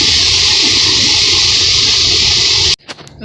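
Rushing river water near a waterfall in Mexico makes a loud, steady roar of spray and flow that cuts off abruptly near the end.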